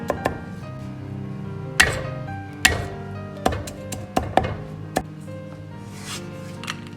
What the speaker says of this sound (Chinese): 把大蒜和生姜都先拍破，然后再剁碎